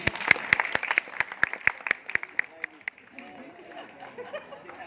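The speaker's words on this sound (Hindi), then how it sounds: "एक तो जोरदार ताली हो जाएगी।" An audience at a Bollywood film city park in Mumbai bursts into crisp applause, dense rhythmic clapping that thins out after a few seconds into scattered claps amid chatter and voices.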